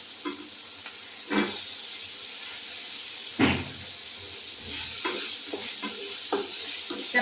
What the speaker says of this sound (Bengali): এবার এই সবজিগুলো ঢেলে দেবো